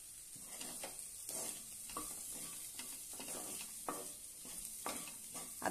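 Mashed potato bharit with coriander is sautéed in a pan. A spatula scrapes and stirs in repeated rhythmic strokes over a soft, continuous frying hiss, close up, with no voices.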